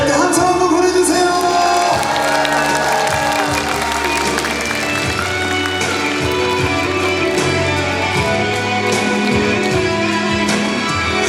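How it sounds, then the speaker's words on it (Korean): At a kindergarten recital, the audience cheers and applauds over music and singing, with whoops and shouts rising from the crowd and a loud, continuous wash of sound. "자, 이럴 때 함성 한번 보내주세요."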